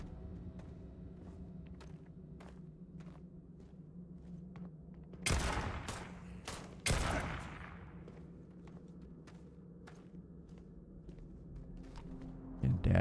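Gunfire in a Starfield battle: two loud, close bursts of shots stand out over a low, steady background hum, with scattered fainter pops and clicks around them.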